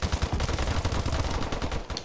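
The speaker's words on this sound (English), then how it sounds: "I was pumping bullets into him," Rapid automatic gunfire in a video game, a continuous close burst of loud shots fired at an enemy, with no voices.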